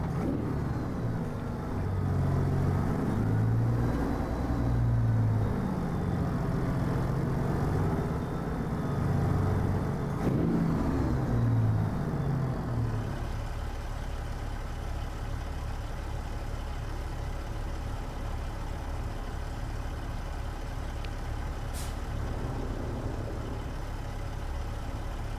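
The engine of a Kenworth W900 truck in American Truck Simulator drones steadily throughout, with a pitch change about halfway through as it downshifts. No one speaks.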